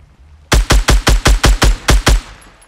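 A burst of gunfire in Fortnite, nine sharp, evenly spaced shots fired in quick succession, loud and close, with a brief ringing tail after the last one and no talk.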